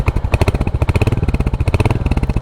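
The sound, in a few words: Royal Enfield Hunter 350 motorcycle single-cylinder engine idling exhaust note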